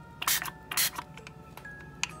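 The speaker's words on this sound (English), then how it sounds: "And then just spray it." Two loud hissing bursts of Distress Oxide ink spray onto cloth close up, followed by a few softer clicks and short hisses in a quiet room.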